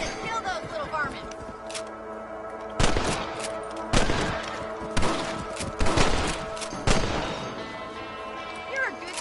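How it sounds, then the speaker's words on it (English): Gunfire rings out in Red Dead Redemption as rabbits are shot: about five sharp, loud reports at roughly one-second intervals, each with a short decaying tail, mixed with game sounds and a voice speaking between shots. "You're a good shot, Mr. Marston."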